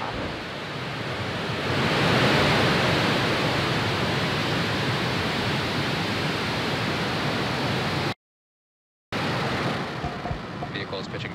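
SpaceX orbital rocket at liftoff, a broad, loud, continuous roar like rushing noise that swells and holds, briefly cutting out near the end before resuming.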